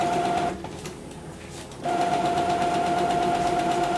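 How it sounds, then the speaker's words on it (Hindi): A Brother T520W inkjet printer powering back on, its steady mechanical whir and motor hum running loud and close, pausing briefly for about a second before resuming continuously to the end. "दोस्तों प्रिंटर गलती से बंद हो चुका था, तो हम इसे फिर से ऑन कर दिए हैं प्रिंटर को"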